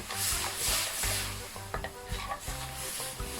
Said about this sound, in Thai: เราจะละลายน้ำพริกแกงให้สุกก่อนนะคะ